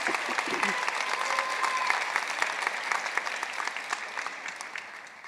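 Sustained applause from a graduation ceremony audience honoring a university medalist, a dense steady wash of many hands clapping that fades slightly toward the end.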